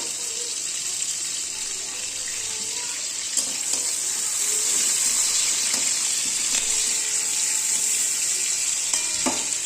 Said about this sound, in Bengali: আমি সাদা তেলে পেঁয়াজগুলোকে দিয়ে দিয়েছি।